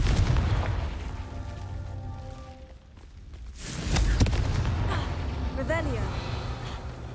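Fire spell explosions in the Hogwarts Legacy video game, a deep booming blast that rumbles low before a second burst flares up midway, with crackling and a whooshing tail, spoken voices running underneath.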